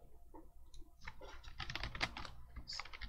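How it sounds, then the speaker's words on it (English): Fingers tap out a run of quick keystrokes on a computer keyboard, irregular clicks that come in short bursts and stay close and fairly quiet, with no voices. "So I'm gonna type that in,"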